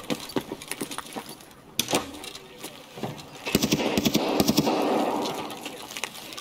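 Gunfire from an M4 rifle in the game Escape from Tarkov, rapid bursts of sharp cracks, some sparse and some in fast strings, loud and close with fluctuating intensity.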